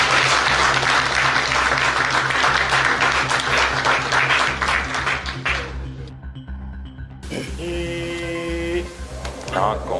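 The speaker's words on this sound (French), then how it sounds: "Une acclamation pour le Seigneur" A church crowd applauds and cheers in praise of the Lord, dense clapping and voices filling the first six seconds, then breaking off into a brief hush before music and singing take over.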